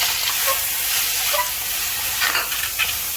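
Prepared mutton for a thool curry frying in a pan with broken dried red chillies, a steady close hiss and sizzle with light stirring scrapes and small crackles throughout, no voices.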